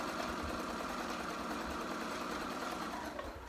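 Home sewing machine running a long gathering stitch across the top edge of a child's dress fabric, a steady continuous motor hum and needle patter at moderate level with no talk.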